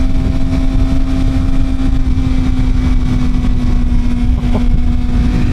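Suzuki GSX-R 750 sport bike engine revving hard past 9,000 RPM, a loud steady high-pitched drone with a constant tone, heard close and alone without any talk.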